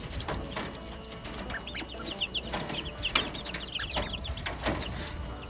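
Duck chicks pecking at food, with soft repeated taps and scuffs under a run of high, quick peeping calls, close by and fairly quiet.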